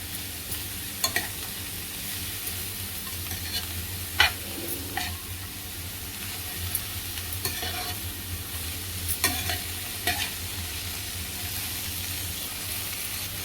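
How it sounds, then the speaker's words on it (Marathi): Bell pepper being stir-fried in a pan with other vegetables for crispy vegetable pockets: a continuous soft sizzle broken by periodic scraping and tapping strokes of a spatula, close and steady with no talk. "शिमला मिरची घालते"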